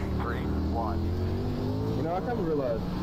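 Sprint cars race closely on the dirt oval at Lucas Oil Speedway in the iRacing World of Outlaws game, a continuous roar of engines with rising and falling revs, heard under a voice.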